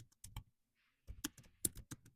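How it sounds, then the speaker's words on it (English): A computer keyboard is typed on in short clusters of crisp key clicks, with a pause in the middle. The clicks are quiet and close, and no one speaks. "Okay, typing ASMR."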